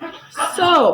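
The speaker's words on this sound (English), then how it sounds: "That is my dog if you heard that." A pet dog whimpers and yips in a brief, rising whine while tussling with a cat at home, loud and close, with a voice speaking over it.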